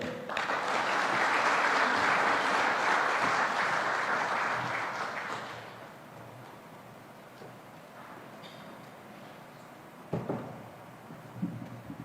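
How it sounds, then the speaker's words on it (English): A sustained round of audience applause at a diplomatic briefing in Nairobi, loud and dense for about five seconds after a speech before fading into quieter room noise with a few scattered sounds. "Another round of applause for the Prime Cabinet Secretary"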